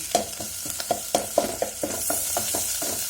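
Chopped onion fries in hot oil with green chillies for an eggplant and dried fish curry, the sizzle broken by a regular series of spatula scrapes and taps, close and fairly loud with no voices.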